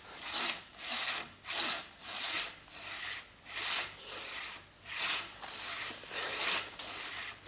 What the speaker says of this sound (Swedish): Fan i mig, är det mitt träd de tänker såga ner?